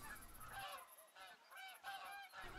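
Geese honking repeatedly in a hunting game, a flock calling in overlapping bursts that rise and fall throughout, fairly loud and with no talk over them.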